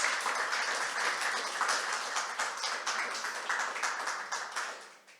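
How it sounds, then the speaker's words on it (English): An audience applauds steadily after a talk at a GraphQL meetup in Wroclaw, a dense wash of clapping that holds for several seconds before fading at the end. "Big applause."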